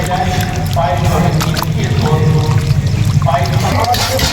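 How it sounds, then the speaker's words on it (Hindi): Mutton washed with water for a desi-style meal: sloshing, pouring water and wet squelching run continuously, with voices talking over it. "मटन अभी वॉश हो रहा है, धुला रहा है"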